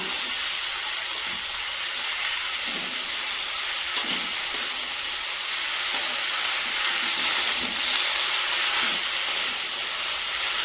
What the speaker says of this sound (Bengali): এবার সবজিগুলো দিয়ে দেবো, পালং শাক, আলু আর শিম।